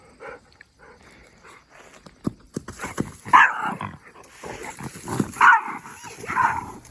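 A dog gives loud, close barks, a run of sharp yips and bow-wows that come in uneven bursts outdoors at a car camping site, with rustling in the background and no talk.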